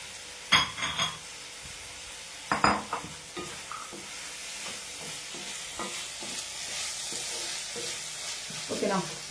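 Ingredients bubbling with butter in a pan, a soft ongoing sizzle and simmer punctuated by a few sharp clinks and scrapes of a utensil against the cookware.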